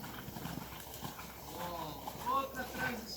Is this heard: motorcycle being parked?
no